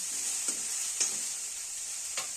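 Moth beans (matki) dry-roasting in a pan, a steady faint hiss broken by three soft scraping stirs, close and quiet with no talking.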